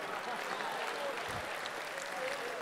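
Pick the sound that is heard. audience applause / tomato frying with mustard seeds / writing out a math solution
audience applause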